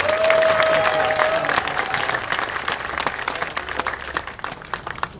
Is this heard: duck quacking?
no